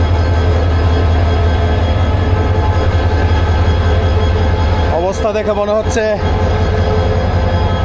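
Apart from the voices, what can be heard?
Kalni Express train locomotive engine idling at Balla station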